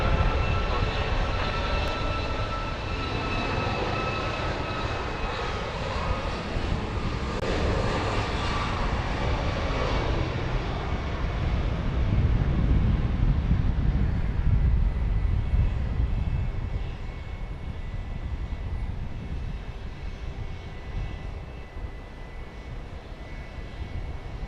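A Southwest jet takes off from runway 31 right at Dallas Love Field, a loud sustained engine roar that swells to a peak midway and then slowly eases. No one speaks over it.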